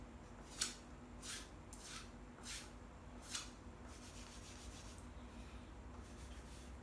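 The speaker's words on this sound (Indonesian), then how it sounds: "Kita gosok lagi dengan minyak kemiri." A ramin wood arrow shaft is rubbed with candlenut oil, giving quiet, close rhythmic strokes of swishing friction, about five distinct rubs followed by softer continuous rubbing.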